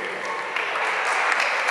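Steady applause from an audience at a charity benefit show, a dense continuous patter of clapping hands filling the room without letting up.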